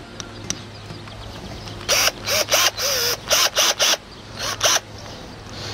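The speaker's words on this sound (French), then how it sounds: "on va commencer par faire un avant-trou. Donc là, vous prenez une visseuse dévisseuse." A cordless drill driver drills a pilot hole, running in a series of short bursts with brief pauses between them, fairly close and clear over a quiet background.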